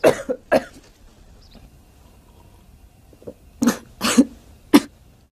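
A sick mother coughs in a film scene, several sharp separate coughs near the start, then a pause before a cluster of harsher coughs close to the microphone toward the end.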